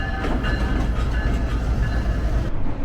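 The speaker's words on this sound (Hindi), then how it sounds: "तो जी ट्रेन चल पड़ी है और हमारा सफ़र जो है वो शुरू हो चुका है।" The Karachi Express train pulling out of Karachi, with a steady rumbling roll of wheels on rails and rhythmic clatter heard from on board, continuous and moderately loud.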